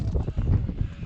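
Gusty wind buffets the microphone high on Y Gribin ridge near Lliwedd in Snowdonia, a continuous low roaring rumble that swells and dips in rapid pulses, loud and close throughout.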